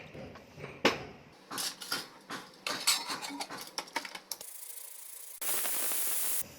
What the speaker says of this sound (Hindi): कुकर का ढक्कन लगाएंगे और 1 सीटी आने देंगे।